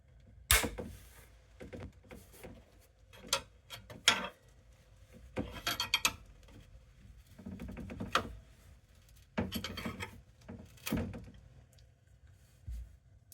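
A nail is pulled out through the back of a piece of wooden trim, heard as a series of short squeaky, scraping bursts about once or twice a second, close and fairly quiet, with no talking.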